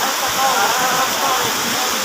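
Heavy rain pours down at a pares food stall, with water dripping through a leaking roof: a loud, dense, unbroken hiss close by that stays level throughout.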